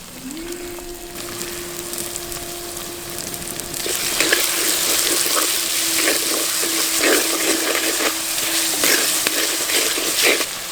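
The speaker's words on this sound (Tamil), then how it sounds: "நம்ம சேர்த்துக்கிட்ட வெங்காயம் நல்லா வணங்கிருச்சு." Onions sizzle and crackle in a hot pan, the frying growing louder partway through with scattered pops and stirring, close by and without speech.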